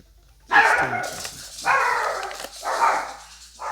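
A dog barks three or four times in close succession, loud and near, with short gaps between each bark and a quieter final yelp.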